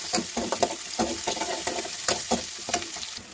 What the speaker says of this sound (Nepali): अनि एउटा प्याजलाई चाहिँ अलिक ठुल्ठुलो पारेर काटेको छु मैले। अनि यसलाई पनि यहाँ फ्राई गर्छु।